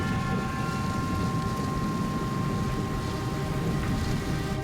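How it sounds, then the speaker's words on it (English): Heavy rain pours in a dense, loud roar at an airport during a thunderstorm, with a low rumble running underneath and a steady tone across the background. "thunder begins to reverberate around the airport"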